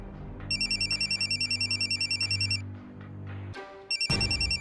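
A phone rings with a bright, warbling electronic tone in long trilling bursts over low background music, stops for a moment, then starts ringing again.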